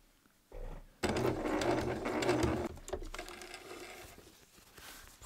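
A sewing machine sews a French seam on thrifted fabric in a close, loud burst with a brief start before the main run, then slows into irregular mechanical clatter.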